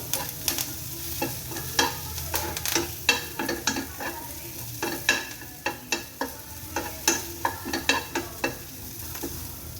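Curry leaves fry and sizzle in hot oil in a pan, with steady crackle and repeated stirring clatters at an even rhythm, close and fairly loud, no talking.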